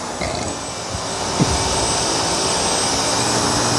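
A Dyson V15 cordless vacuum cleaner on low power, working across a matted rug: a loud, steady whining hum with a strained, bogged-down tone, close up, with no talking.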